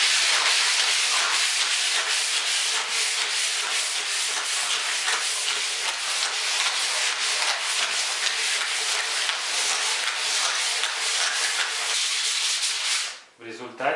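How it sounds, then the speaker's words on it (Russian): A wooden table is sanded with fine-grit sandpaper wrapped around a flat block, giving a loud, continuous, close-up rasping hiss with steady back-and-forth strokes that stops just before the end. "берем мелкозернистую наждачку, берем поверхность плоскую, наждачку оборачиваем, и получилась ровная поверхность."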